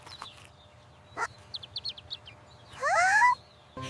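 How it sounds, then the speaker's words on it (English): A small bird chirps in quiet surroundings, a few brief high tweets followed by a louder rising warble, with a couple of soft knocks nearby. "The bird is hungry too."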